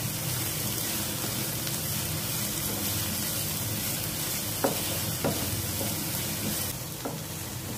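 Chopped bell pepper (capsicum) fries in oil in a pan with a steady, close sizzle, broken by a few light knocks of stirring near the end.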